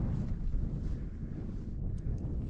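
Steady wind buffeting the microphone at a wild camp beside a lake in the Lake District in spring, a continuous low rumble that rises and falls in gusts throughout, with no voices.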